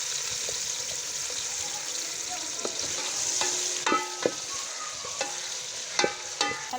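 Onions frying in a pan for a guar bean and meat curry, a soft constant sizzle with spatula taps and scrapes growing more frequent toward the end, close by with no voices.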